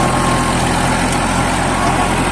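A New Holland 3230 42 HP tractor running a 7 ft rotavator with the PTO engaged, its engine droning loud and steady with a deep continuous rumble throughout.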